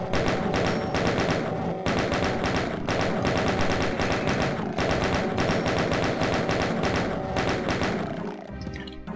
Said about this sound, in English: I'm just gonna snipe these guys from down here.